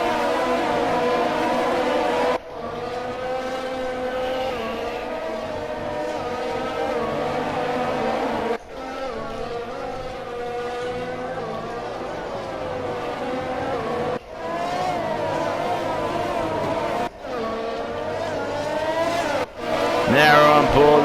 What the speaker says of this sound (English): Now we're on board with a McLaren. Of Lance Stroll.